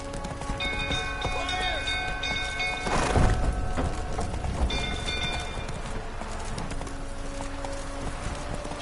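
A horse gallops in The Witcher video game, its rhythmic hoofbeats clip-clopping steadily under ambient game sounds and musical tones for the whole stretch, with no talk.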